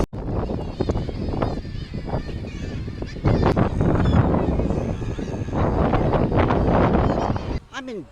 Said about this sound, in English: It's quite a breezy day today